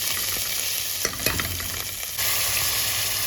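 Minced meat and garlic sizzle in about three spoonfuls of oil in a pan, a steady close frying crackle with a few stirring scrapes and a jump in sizzle near the end.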